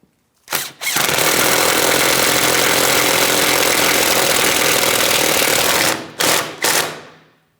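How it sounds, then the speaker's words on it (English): A power tool runs up on the 10mm mounting bolts of a 2007–2014 Ford Edge rear subframe, a short burst followed by a long, loud, steady whir of about five seconds, then two quick final bursts. "Tighten your 2 10mm headed mounting bolts in this area."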